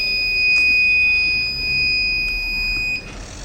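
A piezo buzzer on an intelligent helmet with accident and alcohol detection sounds a continuous high-pitched electronic tone, steady and close, over faint background noise before fading near the end.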